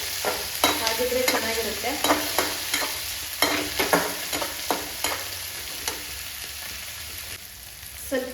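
Onions and tomatoes fry in a pan while a spoon stirs them repeatedly, giving steady sizzling with frequent scraping clatters close by; a voice briefly speaks near the end.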